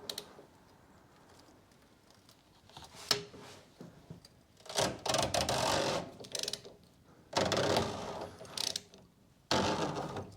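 A ratchet with a 32mm socket works loose the fuel filter housing on a 2021 Ford Transit Custom 2.0 diesel, with bursts of rapid clicking and mechanical rattling between quiet pauses.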